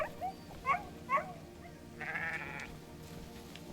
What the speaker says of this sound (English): Do they got goats up here too?